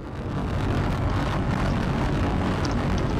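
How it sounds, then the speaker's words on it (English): A Brick Rigs airplane taking off, a steady loud engine roar with broad rushing noise that holds constant throughout, close and unbroken, with no voices. "Alright, the plane's taking off."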